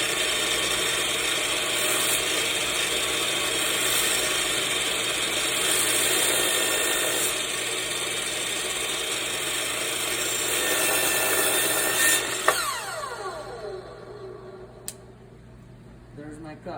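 A saw crosscuts a wooden cutting board to length, a loud continuous whining cut that runs steadily, then winds down to a fading hum with a couple of light knocks at the end.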